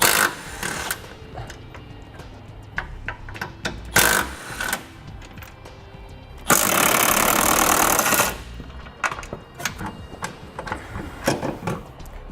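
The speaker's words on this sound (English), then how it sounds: "So we'll start by removing all four of these bolts." Impact wrench or power tool loosening 18mm bolts from the frame rail of a 2017 Nissan Rogue, with short mechanical bursts and a long sustained rattling run, loud and close without talk.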